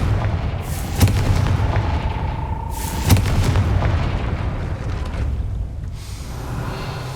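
A Confringo blasting spell goes off in Hogwarts Legacy as two sharp booming blasts, about two seconds apart, over a steady rumbling game soundscape with no talking.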